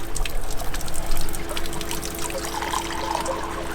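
Spring water pours steadily from an outdoor roadside spring in Serbia, a continuous close splashing trickle that runs on alone without talk.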